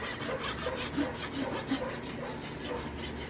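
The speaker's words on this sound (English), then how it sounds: "I'm literally going to go and even up this hoof wall thickness all the way around his foot." Hoof knife or rasp working around the wall of a horse's hoof with flared toe, producing steady close scraping and rubbing strokes in a rough repeating rhythm, with no talking.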